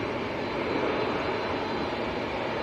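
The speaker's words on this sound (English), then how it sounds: "787-9 Dreamliner going to Doha." A Boeing 787-9 Dreamliner bound for Doha roars steadily at Manchester Airport, a broad, loud jet-engine rumble filling the short stretch without break.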